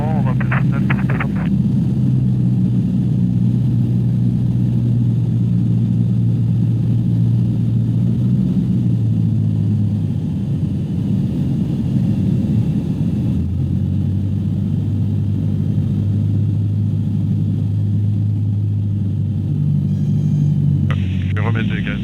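A light aircraft engine drones loud and steady as the throttle comes up for a go-around, with a deep tonal hum that shifts pitch partway through. Voices talk over it on the intercom.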